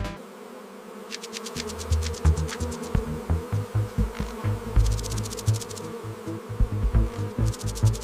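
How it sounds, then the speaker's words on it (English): A swarm of wild honey bees at a jungle hive drones in a dense, continuous buzz, loud and close, with individual bees zipping past in brief, pulsing surges. "these wild hives can contain hundreds of pounds of honey, guarded by thousands of aggressive bees"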